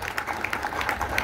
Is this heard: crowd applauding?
yes